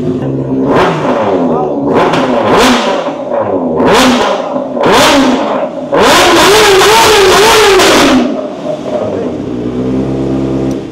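Kawasaki ZX6R sport motorcycle fitted with an aftermarket exhaust pipe, revved hard in a series of loud, sharp blips followed by a longer sustained high rev before dropping back to a rough idle, close to the microphone.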